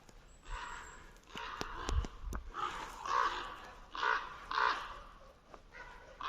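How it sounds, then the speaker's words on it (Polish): Ravens circle overhead beside a rural road, giving a series of harsh, repeated caws at moderate distance against soft outdoor rustling, with no one speaking. "Normalnie nade mną zaczęły latać chyba kruki, bo olbrzymie czarne skrzydlate."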